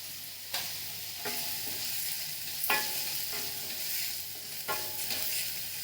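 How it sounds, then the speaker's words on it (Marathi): Onion, garlic, green chili, ginger and turmeric fry in a pan with a steady, close sizzle, broken every second or so by the scrape and clack of a spoon stirring, no voices. "कांदा परतला की त्याच्यामध्ये लसूण आणि हिरवी मिरची टाकून घेते."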